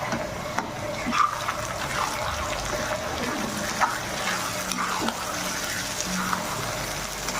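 Onions fry in a pan for a baingan paratha filling, a continuous soft hiss and crackle of moderate loudness with a few small pops throughout.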